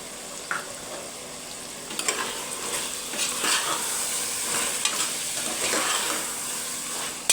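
Brinjal frying in a pan for vangi bath, with a steady close sizzle and occasional stirring scrapes throughout and no talking.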